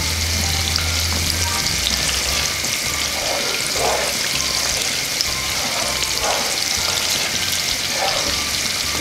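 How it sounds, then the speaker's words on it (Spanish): Orange chicken sauce bubbling and sizzling steadily in a pan for a Chinese-style dish, a continuous close frying hiss with soft gurgling bursts of boiling and no talk. "Lo dejamos hirviendo"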